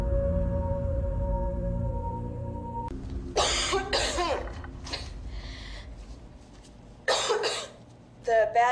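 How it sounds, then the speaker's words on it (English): A person coughs in a dramatic television scene: two short, harsh coughing fits, close and fairly loud, follow a quiet stretch of sustained background tones. "The bad news is the cough is getting worse"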